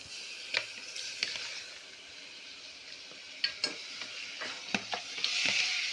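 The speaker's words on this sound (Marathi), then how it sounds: "मटण आहे ना ते टाकायचं फोडणीला." Mutton tossed into hot tempering for a spicy Konkani-style goat curry, sizzling softly while a spoon scrapes and stirs the pan in a few distinct clacks, fairly close and on its own.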